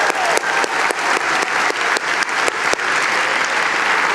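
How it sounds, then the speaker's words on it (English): Audience at a motivational event giving themselves a round of applause, loud dense clapping with sharp individual claps standing out, sustained throughout. "Give yourselves a round of applause"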